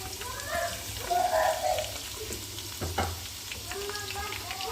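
About half a kilo of finely chopped onions frying in hot ghee while being stirred, a steady soft sizzle with louder bursts as the pan is mixed.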